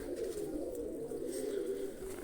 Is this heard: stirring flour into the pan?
no